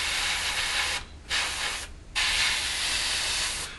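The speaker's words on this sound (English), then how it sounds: "all we're going to do is spray in these the black areas, which is obviously in this case inside the Bombay." Black paint is airbrushed into the bomb bay of a 1/72 Revell Lancaster model kit, a steady close hiss in three long bursts separated by two short pauses.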